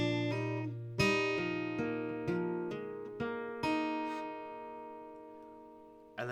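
An acoustic guitar plays a fingerpicked pattern, a quiet, close, repeating figure of plucked notes that ring and overlap, played alone.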